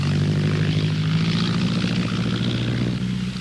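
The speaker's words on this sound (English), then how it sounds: "With its Gypsy engine, it became the most loved plane in the entire flying world" A de Havilland Tiger Moth biplane with a Gypsy engine flies by, its propeller engine droning steadily and loudly throughout with a low, rough hum and no voices.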